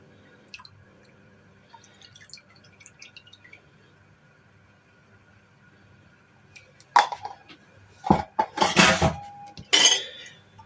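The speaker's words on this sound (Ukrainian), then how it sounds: "Тепер добре перемішую." A spoon scrapes and clinks against a pot while heated milk mixture is stirred, a burst of close, loud metallic clatter and liquid sloshing after several quiet seconds.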